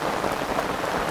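Heavy rain pelting the surface of a river, a dense, steady hiss of countless drops with no break, close and fairly loud.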